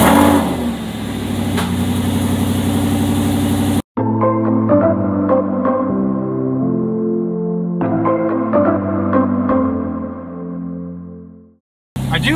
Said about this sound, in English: But I guess let's start the car.